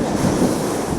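Wind buffeting the microphone on an exposed hilltop tor at Dartmoor, a steady loud rushing roar lasting a moment, with no voices.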